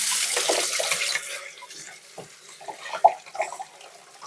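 Tap water runs over cauliflower being rinsed, a close steady splash that thins out into softer, irregular drips and spatters as the head is turned under the flow.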